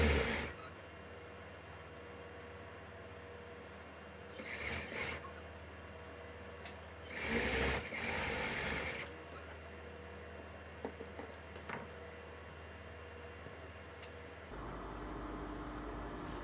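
Sewing machine stitching the lining of a blouse, a quiet steady whir with two louder stretches of running stitch, then a shift in tone near the end.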